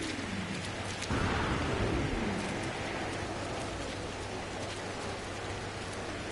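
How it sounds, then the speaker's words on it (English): Boiling rain during a temperature storm in the video game No Man's Sky pours down as a dense, steady hiss, with a low rumbling swell partway through before the downpour settles back to an even roar. "It's a temperature storm and rain."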